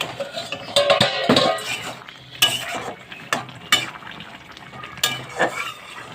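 Small fish and bitter gourd curry with potatoes cooking in a pan, giving scattered clinks, scrapes and bubbling bursts up close, with no voices.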